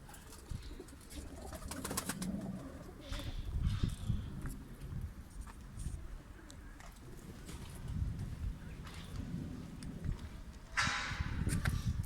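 Pigeons coo repeatedly at close range, low throaty calls overlapping with rustling and flutters of birds moving about.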